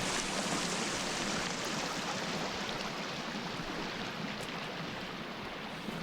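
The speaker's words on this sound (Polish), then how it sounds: "Ale to jest strasznie ten wodospad, matko bosko." Waterfall in the video game Sons of the Forest, a constant broadband rushing roar of falling water, steady and moderately loud with no talk.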